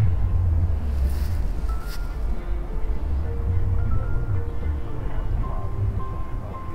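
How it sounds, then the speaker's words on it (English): Wind blows outdoors as steady, dense rushing noise with low rumble and microphone buffeting, continuous and loud throughout while a 7-inch FPV drone flies nearby, with faint tonal whines riding on top. "Windy out here."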